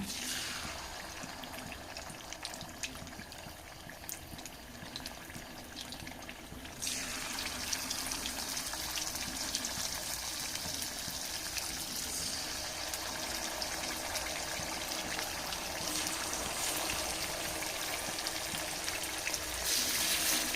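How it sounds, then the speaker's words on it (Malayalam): Chicken pieces fry in hot coconut oil, giving a steady broadband sizzle that steps up louder partway through and holds strong and continuous, close and without talk. "എണ്ണ ചൂടായി വന്നിട്ടുണ്ട് ഇതിലേക്ക് നമുക്ക് ചിക്കൻ വെച്ച്"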